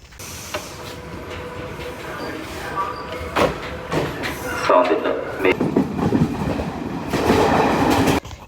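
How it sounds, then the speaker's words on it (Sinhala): Train arriving at a station, with rumbling wheels and clattering carriages building up beside the platform, punctuated by clanks and a rising rush near the end while people talk nearby. "මොකද ට්‍රේන් එක එනවා"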